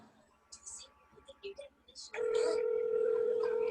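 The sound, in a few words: telephone being dialed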